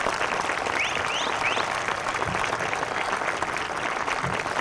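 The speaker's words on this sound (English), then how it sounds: "Let's give them another round of applause." An outdoor crowd applauds singers after a song at a Veterans Day ceremony at the AV Wall in Palmdale, California, with dense, even clapping throughout and a few faint bird chirps above it.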